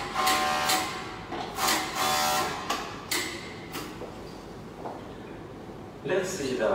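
A C5 quick-adjustable overlock machine sews and trims heavy fabric, its rapid mechanical chatter running loud and close in repeated surges and pauses, with someone talking over it.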